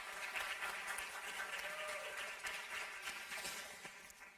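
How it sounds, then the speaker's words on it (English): Sustained applause from an audience at a peace conference in Gernika, a dense, steady crackle of many hands filling the hall for several seconds without a break. "a big round of applause for you all"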